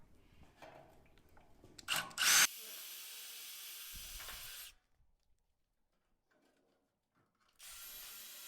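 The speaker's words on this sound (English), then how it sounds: "I'll just put a couple of temporary rivets in this one also" A power drill boring holes for temporary rivets in a sheet-metal sump for a box gutter, with two loud, steady whirring bursts near at hand and a quiet gap between them, preceded by faint handling clatter.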